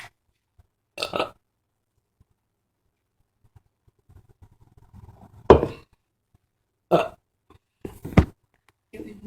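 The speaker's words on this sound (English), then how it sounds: "You enjoy me burping?" A girl lets out a series of loud, separate belches with quiet gaps between them: one early, then three more in quick succession toward the end, close and forceful.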